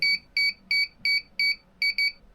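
A DJI Neo 2 remote with its transmission module gives a rapid series of seven sharp, high electronic pairing beeps, each pulse a quick double chirp, repeating evenly at close range with nothing else around them.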